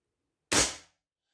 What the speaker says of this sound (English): And now when I pull the trigger, it should fire.